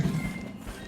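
A horse in the video game Cat Quest II lets out a short, loud neigh that lasts under a second, with game background sound behind it.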